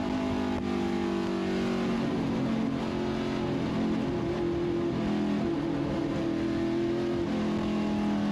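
Stock car racing at the Winton 300 in Victoria, engines droning steadily and loud through a sweeping corner, with sustained harmonic engine tones shifting pitch as the cars pass, no talk over it.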